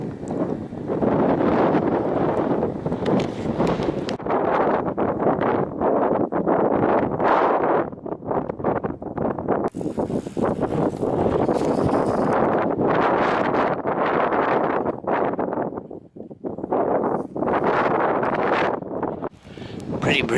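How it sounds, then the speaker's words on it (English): Strong wind buffets the microphone on an outdoor walk at Gerddi Bluog, a continuous loud roar with gusting surges and brief lulls, close and rough throughout. "Pretty breezy up here."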